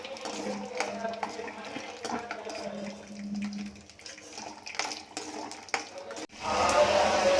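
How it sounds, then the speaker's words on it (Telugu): Peanuts dry-roasting in a pan over a low flame, with steady scraping and clinking of a stirring utensil against the metal and a soft background hiss, ending in a louder burst of sizzling. "సిమ్లో పెట్టుకొని దోరగా వేయించుకోవాలి"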